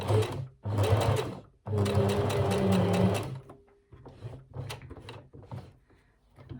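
Sewing machine top stitching a wool coat, two long bursts of fast, even mechanical stitching close by, followed by quieter clicks and handling sounds.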